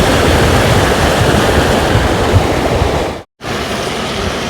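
Floodwater rushes steadily around tree roots beside a flooded road, a loud continuous broadband roar close to the microphone, with a brief drop-out near the end before the flow resumes.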